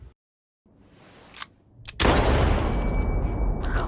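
A single sharp gunshot cracks after a near-silent pause in a film scene where a man shoots himself in the head, followed by a loud, sustained ringing roar.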